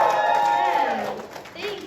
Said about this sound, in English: you better clap